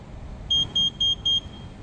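Four short, high electronic beeps from a Tesla Model X electric frunk controller in an even rhythm, clear and close, over a low background hum.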